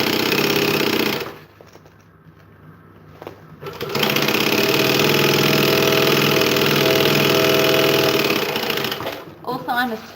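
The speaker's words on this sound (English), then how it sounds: "I sew really fast." A sewing machine runs fast in loud, rapid mechanical bursts, stopping for a couple of seconds before a long continuous run, with a brief voice near the end.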